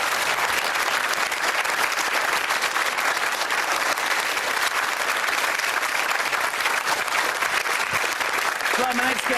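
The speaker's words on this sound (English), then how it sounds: "Give him a round of applause." Studio audience applause on a British daytime talk show, a dense, loud and sustained wash of clapping that runs steadily throughout, with a voice briefly audible near the end.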